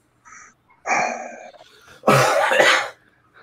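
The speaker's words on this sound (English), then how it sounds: "It did look like he leaned over and coughed on you" A person coughs twice in quick succession, close and fairly loud, with a faint throat sound just before, in a quiet indoor setting.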